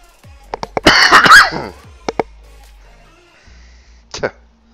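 A person coughs hard right into a microphone in a loud, harsh cluster of bursts, followed by a couple of single coughs and a final cough after a short quiet gap.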